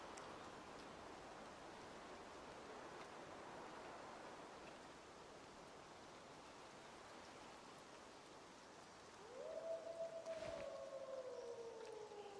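A gray wolf in the hunting game Way of the Hunter howls once near the end, a long sustained tone rising then slowly falling, heard faintly over a continuous rain-like wash of ambient noise.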